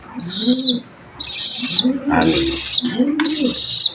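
Pigeons kept as pets, six birds, giving low soft cooing calls in repeated phrases across the clip, close by, along with higher chirps from other birds in the background.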